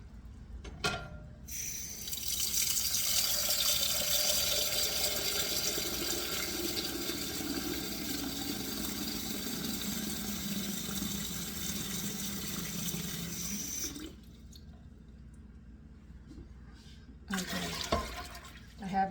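Tap water gushes steadily into a pressure canner being readied to can chicken stock, a loud, continuous rush lasting about twelve seconds before cutting off, followed by a couple of brief splashy bursts.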